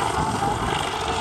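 Eurocopter EC135 helicopter flying at an air show in Szeged, its steady rotor and engine roar loud and continuous without a break.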